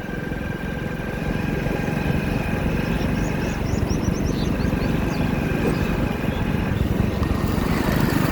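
A motorcycle rides along a rough village road with a steady engine drone throughout. Faint birdsong chirps rise above it near the middle.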